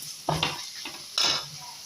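Onions sautéing in a pan for rava kichadi, a soft sizzle broken by a few stirring scrapes and clinks of the spoon against the pan, quiet and close.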